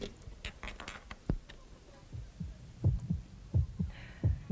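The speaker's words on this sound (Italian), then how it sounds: "Il battito cardiaco." A human heartbeat, recorded as faint, rhythmic low thumps that repeat steadily and grow a bit stronger toward the end, with light clicks in between.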